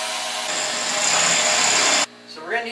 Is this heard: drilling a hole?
yes